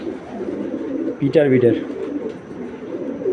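Racing pigeon, a valuable 2024 youngster, gives a short burst of low cooing over a steady background murmur, with someone speaking at the same time.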